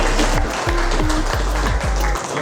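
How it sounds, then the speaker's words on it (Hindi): A group bursts into loud applause at a wellness achievers' gathering near Jim Corbett, with sharp clustered claps over a deep rumbling background hum. "जोरदार तालियां"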